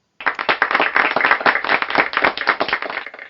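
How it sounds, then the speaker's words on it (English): A round of applause from a small group, close and loud, with brisk, slightly uneven claps starting abruptly and running steadily for about three seconds before trailing off. "A round of applause for you."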